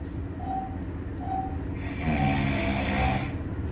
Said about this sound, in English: when the person is snoring,